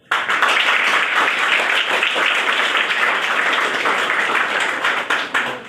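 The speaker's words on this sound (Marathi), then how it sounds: "तुम्ही सर्वांनी टाळ्या वाजवून त्यांचं अभिनंदन करावं कौतुक करावं असं मला वाटतं" Students at a school's National Safety Day event in Shevgaon applaud their teachers: a dense, loud crowd clapping that stays continuous and full for several seconds, then thins out at the end.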